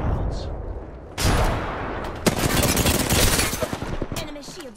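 Rapid automatic gunfire in an Apex Legends firefight, loud close bursts and sharp single cracks over a busy roar of game noise, with a player's voice speaking between shots.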